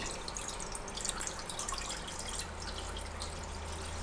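Dissolved palm jaggery water is strained, a continuous trickling and dripping of liquid pouring through a strainer, close and fairly quiet with no voices.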